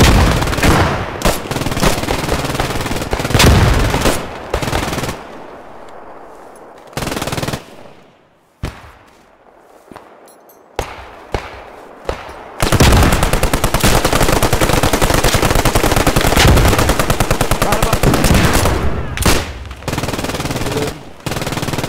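Machine-gun fire in the Post Scriptum war game rattles in long loud bursts with scattered gunshots, breaking off into quiet gaps before resuming with heavy sustained automatic fire close by.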